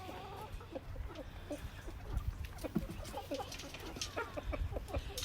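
Young chickens, a flock of nine including two or three roosters, cluck in irregular bursts nearby, overlapping short calls continuing throughout with no clear talk.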